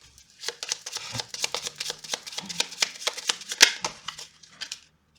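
Petit Lenormand cards being shuffled by hand, a rapid series of crisp papery riffles and slaps, close and fairly quiet, with no talking.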